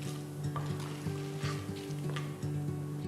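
Hot oil sizzles steadily as mustard seeds and cumin crackle and spit, with small pops scattered through the frying over a low hum.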